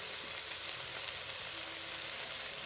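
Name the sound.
carne asada steak sizzling as it cooks in pan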